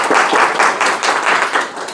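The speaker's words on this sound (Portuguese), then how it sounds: "Batam palmas para se aquecer, gente" An audience at an indoor course on a cold day claps together, a brief burst of fairly steady, moderately loud applause close by.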